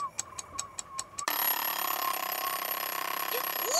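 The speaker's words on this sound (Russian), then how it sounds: "это же будильник звенит" An alarm clock rings in a quick series of bright metallic bursts, then shifts abruptly into a continuous loud, buzzing jangle that keeps going.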